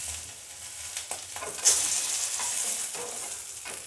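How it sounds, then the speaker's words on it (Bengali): Fish frying in hot oil gives a steady, close sizzle with a few light stirring knocks and one brief sharp crackle, and no one talks. "মাছটাকে আমি খুব ভালো করে ভেজে নেব"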